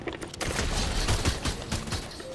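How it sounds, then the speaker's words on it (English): Turret firing in the Fortnite video game, a rapid burst of automatic gunshots that is loud, close and continuous for a couple of seconds, with no talk over it. "Guys, I'm throwing down the turret."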